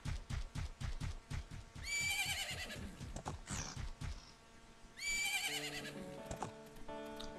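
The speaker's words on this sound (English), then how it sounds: "Look! Isn't that your horse? Ooh, looks like we found Epona." Epona, a horse in Zelda: Majora's Mask at Romani Ranch, whinnies twice in loud shrill bursts, with rapid clip-clop hoofbeats and game music notes around them.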